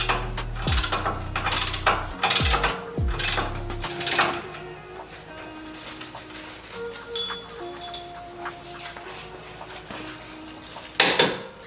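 Metallic ratcheting clicks and clanks from a 21mm socket tightening a nut on a 3rd gen Tacoma upper control arm, close and in short bursts, then quieter tool handling and a final clunk.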